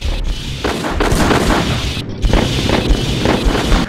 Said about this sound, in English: We are under fire, sir.